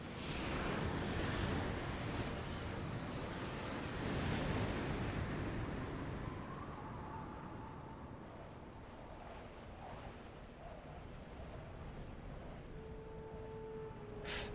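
Ocean waves surge and wash in Xenoblade Chronicles 2, a broad, breezy roar that swells early, then eases into a softer, steady wash with light wind noise.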